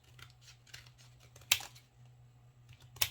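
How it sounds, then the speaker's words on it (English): Scissors cut out traced circles of paper for an Easter cross craft, soft snipping and rustling with two sharp, crisp cuts standing out, close and fairly quiet over a low background hum. "And then I'm just going to cut them out with scissors."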